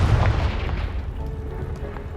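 In the game Hogwarts Legacy, the Confringo blasting spell sets off a single heavy booming blast that opens loud and deep, then fades into a rumbling decay.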